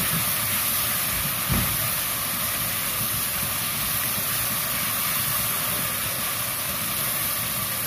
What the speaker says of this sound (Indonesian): Ini bumbunya udah kita taruh karena minyaknya udah panas.